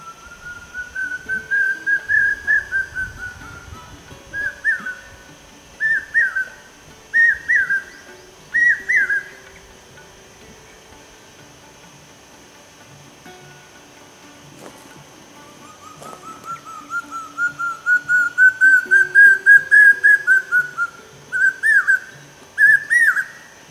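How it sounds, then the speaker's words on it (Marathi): A bird in open, dry scrubland gives a clear whistled call, repeating a short phrase several times, pausing, then starting a longer rising run of the same call. It sounds fairly close, with no other sounds competing. "एक सुरात पेरते व्हा, पेरते व्हा असा ओरडणारा हा पक्षी माळरानावरील ओसाड जंगले या ठिकाणी आढळतो"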